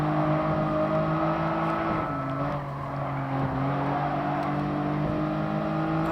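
A Toyota Crown Athlete police car's engine in Gran Turismo Sport hums at a steady drone, dipping briefly in pitch midway, then holding an even, continuous tone.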